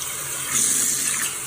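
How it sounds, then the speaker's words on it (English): Water pouring from a tap onto a thick, dry reusable kitchen cloth in a kitchen, a short steady gushing splash close by with no voices. "let me just put some water on"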